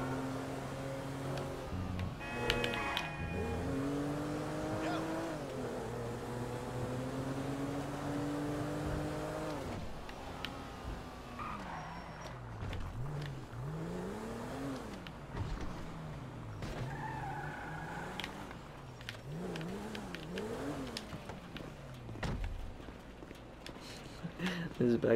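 A car drives in Grand Theft Auto 5. The engine rises and falls in pitch as it accelerates and shifts, with some tire noise, under background music and someone talking.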